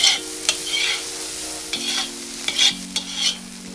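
Mushrooms with a little lemon juice sizzle steadily in a pan as a utensil stirs and scrapes them in several short strokes, with a faint hum in the background.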